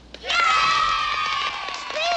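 Cast members in a classic 1976 drama applaud their guest of honor, a sustained burst of clapping mixed with cheering and high excited voices that swells after a brief pause and holds loud to the end.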